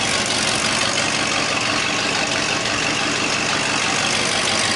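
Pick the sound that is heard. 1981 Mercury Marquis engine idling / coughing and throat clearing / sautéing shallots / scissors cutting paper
1981 Mercury Marquis engine idling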